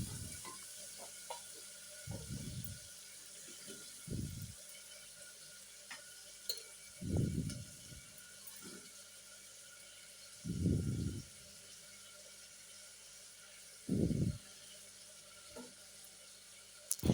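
Chopped tomato, potato and green peas hit a hot pan in a few separate short bursts of sizzling, each a second or so long, spaced apart with quiet kitchen hiss between them.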